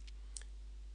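Two or three quick, faint mouse clicks at a computer running accounting software, with a low steady hum underneath and no talking.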